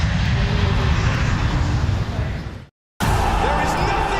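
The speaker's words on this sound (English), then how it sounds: "Gamer Legion Airlines is now preparing for takeoff from Stockholm" An airliner takes off with a loud, steady engine roar that fills the air, then cuts out abruptly to silence for a moment before the roar resumes.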